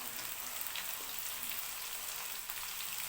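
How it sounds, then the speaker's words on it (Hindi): Onions frying in a pan with garlic-ginger paste give off a close, steady crackling sizzle, a dense hiss with small pops that continues evenly throughout. "थोड़ी देर प्याज को करते हैं फ्राई।"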